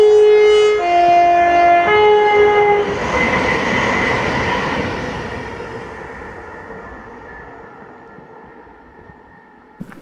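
A ScotRail passenger train service between Edinburgh and Glasgow Queen Street sounds its horn in loud sustained blasts, then passes close by with a rushing roar and wheel clatter that fades into the distance.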